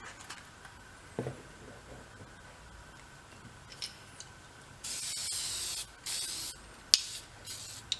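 An aerosol can of sealer sprayed on an old Ford truck sputters out: short bursts of hissing spray with gaps and a few clicks, close and fairly quiet, nobody speaking.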